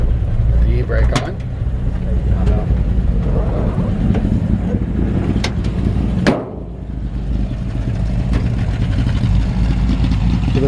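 A 1955 Chevrolet 3100 pickup truck with dual exhaust idles steadily close by, a low continuous rumble with a few sharp knocks and a brief dip midway, while people talk over it.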